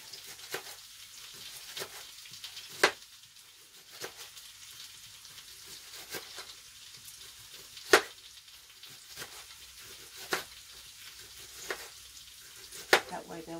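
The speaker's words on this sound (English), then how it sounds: "I'm always keeping my eye on the potatoes. They're colouring nicely. Frying nicely, rather." Steady soft sizzle of sliced potatoes frying in a pan, with occasional sharp clicks and crackles from stirring or turning, no voices.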